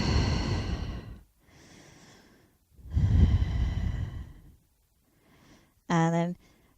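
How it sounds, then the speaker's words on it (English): Long, deep yoga breaths, loud and close: a drawn-out exhale, a softer inhale, then another full exhale, followed by a short voiced sound. "Hold. Exhale away. Inhale, hold. Exhale away. Couple of breaths."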